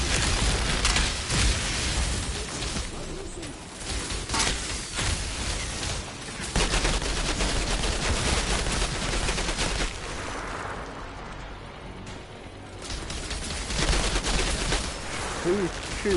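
Gunfire from the shooter game Outriders, sustained bursts of rapid shots and heavy blasts running throughout at loud, fluctuating levels, with a voice talking briefly among them.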